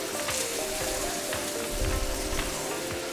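Potato pieces searing face down in a hot wok, a dense continuous sizzle and crackle with a low bubbling swell partway through, close and steady.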